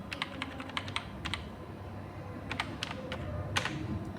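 Rapid typing on a computer keyboard while entering data in Tally ERP-9, with clusters of sharp key clicks, a pause, then a few more taps, close-up over a low room hum.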